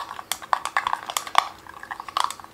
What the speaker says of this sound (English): going to go ahead and stir